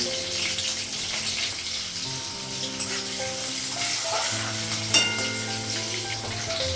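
Eggplant curry cooking in a pan with green chillies and five-spice, heard as a continuous close sizzle with occasional stirring scrapes and faint tonal sounds in the background.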